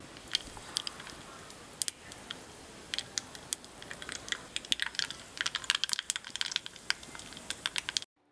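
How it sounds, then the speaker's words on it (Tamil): Mustard seeds crackling and popping in hot oil in a kadai for a Tamil tempering, a steady stream of sharp irregular pops and sizzle close up, with no talk. "எண்ணெய் சூடாகிடுச்சு கடுகு போட்டுக்கலாம்"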